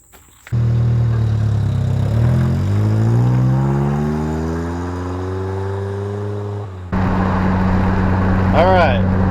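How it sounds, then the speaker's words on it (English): A 1996 Kia Sportage engine drones steadily while driving with the windows down, its pitch climbing through gear changes before a shift to a rougher, louder cabin rumble with wind noise. "Alright, on the way to the dealer to trade the Kia."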